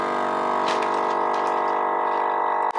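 A vacuum sealer draws air from a bag holding a standing rib roast, giving a steady loud pump hum with a rapid pulsing texture, a few faint clicks, and a brief drop near the end.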